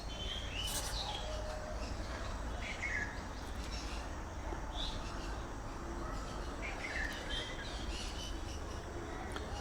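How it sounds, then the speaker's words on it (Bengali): A flock of pineapple and yellow-sided conures chirps at a crowded bird market, with short, bright calls popping up now and then over a faint, constant background din. "এবারে দেখতে পাচ্ছেন এক ঝাঁক পাইনঅ্যাপেল এবং ইয়েলো সাইড কনুর"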